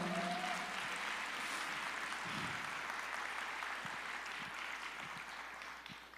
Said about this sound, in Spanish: ¿Cuánto le dan ese aplauso al Señor?